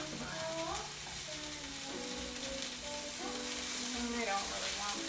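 Green onion and red pepper sizzling in a hot pan, a dense continuous frying hiss with stirring, close up, with faint talk and other sounds underneath.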